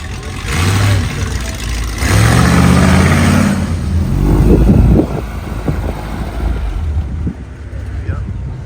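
A Roush Mustang revs at a car gathering, its engine rising in a loud, throaty build that peaks near the middle and then eases back, with people talking nearby.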